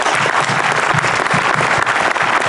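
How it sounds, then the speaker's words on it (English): Dense, steady applause from an audience at an amphitheater grand opening ceremony, loud and continuous from start to finish without pause. "I would like a special round of applause, please"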